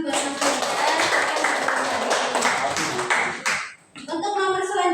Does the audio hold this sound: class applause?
yes